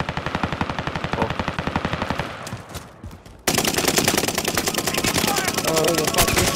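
Automatic gunfire in Call of Duty Warzone, a rapid rattling burst up close, a brief lull, then a louder sustained stream of shots with no talking.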